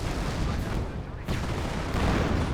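An artillery barrage rumbles through the WWII strategy game Company of Heroes, a dense, loud wash of overlapping booms and blasts that lasts throughout, with a commentator's voice partly buried in it.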